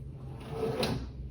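A steel drawer of a middle-sized Kennedy machinist's tool box in hammered paint slides open or shut once, a quiet rolling glide ending in a soft metallic click, with no voices.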